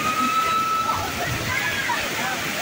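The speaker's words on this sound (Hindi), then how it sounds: "इस तरह का झरना है" Lodh Falls in Jharkhand pours steadily, a loud, continuous rush and slosh of falling water close by, with people talking over it at the crowded site.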